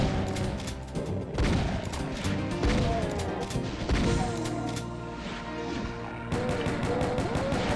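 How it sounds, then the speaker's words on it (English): Rapid shotgun and pistol blasts in Doom II, a dense string of loud sharp shots and booms over a pounding game soundtrack, with brief monster noises between the shots. "kill the shotgunner with the shotgun that we got from the other shotgunner, and we can probably just continue pistoling these other guys"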